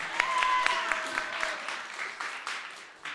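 Applause from the audience at an Overwatch 2 LAN tournament award ceremony: steady, close-packed clapping with a few whistles and shouts, gradually thinning out.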